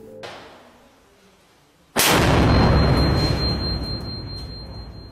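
Homemade mortar firing, a sudden loud deep blast after a quiet lead-in, followed by a long rumbling roar that slowly decays, heard outdoors.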